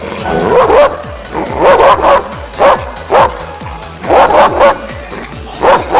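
A police dog barks loudly and close by in repeated bursts, the sharp barks coming in quick clusters with short pauses between.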